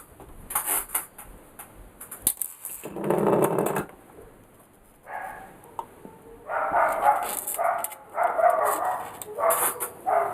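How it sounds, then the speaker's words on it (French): Dogs barking indoors in a kitchen-like room, several loud, close bursts of barks and yips with short pauses between them, and a few clinks of dishes or utensils in the gaps. "Excusez-moi pour les aboiements de chiens."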